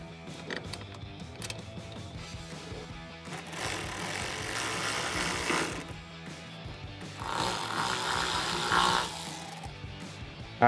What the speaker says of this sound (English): To install it, we're going to need a 8mm socket, a 10mm socket, and 2 ratchets.